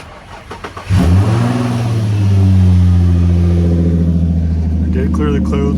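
A Nissan G35 sedan fitted with coilovers cranks and starts, then settles into a steady idle with a rising rev early on; the engine is loud and close, with brief clicks and handling noises before ignition.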